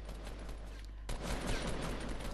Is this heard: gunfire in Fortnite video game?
yes